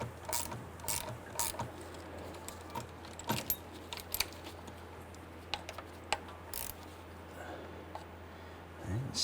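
Wrench ratcheting on the shift cable nut up top at the controller of a 1994-2004 Ford Mustang 3.8L V6, giving scattered quiet clicks and metallic ticks over a low steady hum, close by.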